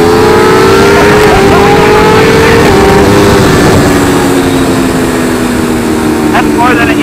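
Sport motorcycles, a BMW S1000RR and an Aprilia RSV4 Factory, accelerate hard from a standing launch, their engines screaming and rising in pitch through the run, loud and close with wind roar.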